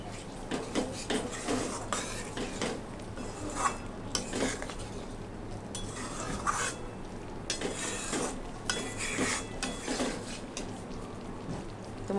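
A spice paste is stirred and cooked down in a pan for a vegetarian potato and paneer dish, with scraping utensil strokes and soft clinks over a faint low sizzle, steady and close.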